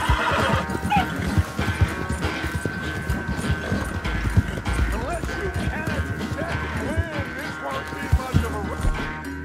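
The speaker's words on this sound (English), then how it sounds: "My horse about to get too tired." Horse in the Red Dead Redemption II video game, tired from riding, whinnies and gallops with steady hoof clatter under game music, while someone talks over it.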